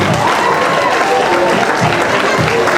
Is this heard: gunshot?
no